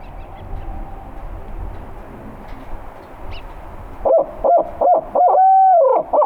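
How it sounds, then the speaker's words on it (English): Real owl hooting in the woods at dusk during a turkey hunt: after several seconds of quiet ambience, a loud close run of rhythmic hoots arrives, five or six notes with one long drawn-out call near the end. "Real owl hooted and a bird gobbled right on that point."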